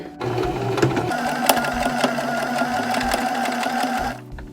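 A sewing machine stitches the curved seams of a handmade bucket hat, running as a fast, steady mechanical whir close by for about four seconds before stopping, with no talking.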